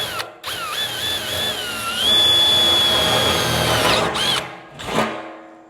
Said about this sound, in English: And I'm gonna go ahead and drill the top right and the bottom left again.